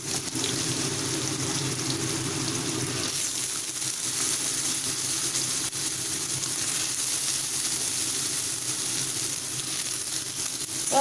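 Potato and pumpkin pieces frying in a pan after the spice tempering make a continuous soft, hissing sizzle, moderately quiet and steady throughout with no talking.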